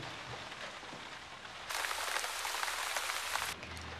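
Rain patters steadily on a surface, a faint wash that suddenly swells into a louder, denser downpour for a couple of seconds before dropping back to a soft drizzle.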